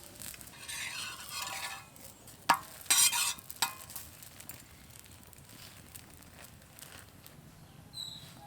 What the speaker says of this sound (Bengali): আর এই রুটিগুলো সেঁকার সময় কিন্তু খুব বেশি তেল লাগবেই না, অল্প তেলেই সেঁকে নেব।